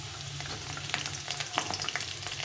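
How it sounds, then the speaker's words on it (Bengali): Thin bitter gourd slices hit a pan of oil with fried potatoes and sizzle loudly, with crackling pops and stirring scrapes close up and no talk. "আলুগুলো লাল লাল করে ভেজে নিয়েছি। এখন এর মধ্যে উচ্ছেগুলো দিয়ে দেবো।"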